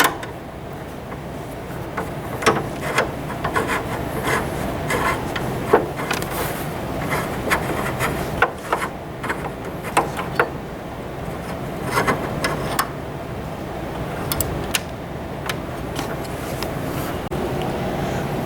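A 6mm Allen wrench backs out the bolt holding the front of a lower plastic side panel, giving a run of soft close-up scraping, rubbing and small ticking clicks over a low steady background hum, with no talking.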